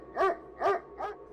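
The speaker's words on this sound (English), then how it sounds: "The dogs began barking into the darkness outside the windows." Dogs barking into the darkness at night, three sharp, separate barks in a steady rhythm, fairly close and clear, with nothing else heard around them.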